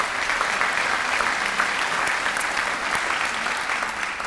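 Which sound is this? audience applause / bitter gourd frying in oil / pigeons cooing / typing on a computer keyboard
audience applause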